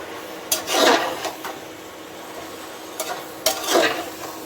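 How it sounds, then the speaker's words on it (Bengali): Vegetables for khichuri are stirred in a pan, with a few scraping strokes of a spoon against metal in two short clusters over a faint sizzle, close and unaccompanied by talk. "এবার সব কিছু একসাথে ভালো করে মিক্স করে নেব"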